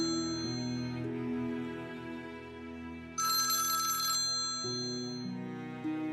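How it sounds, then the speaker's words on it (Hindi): An electronic phone ringtone chimes in a steady melodic pattern, close and clear, with a brighter high-pitched burst partway through and no talking. "आपका फोन बज रहा है शायद।"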